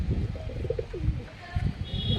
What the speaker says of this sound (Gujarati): અહીંયા જો કબૂતર બેઠા છો અવાજ કેવો કરે છે